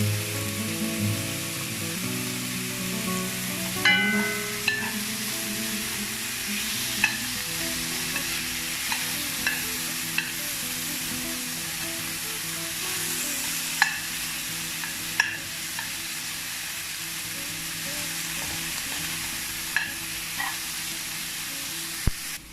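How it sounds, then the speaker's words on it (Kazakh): Onions fry in a pan for a buckwheat-and-meat dish, a continuous sizzle and hiss with repeated scraping and clinking of a spoon stirring against the pan, steady and close throughout with no speech. "Пияздың барлығын салып, қайтадан жақсылап тұрып қуырамыз"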